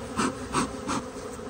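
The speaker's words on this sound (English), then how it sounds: "with lots of bees and one empty frame" Honeybees buzz steadily around hive frames during a hive split, a dense close drone that swells in three soft pulses as the insects move about.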